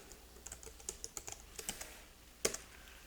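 Fingers tap out a folder name on a computer keyboard, a close, irregular run of light clicks with one firmer keystroke near the end, no voices.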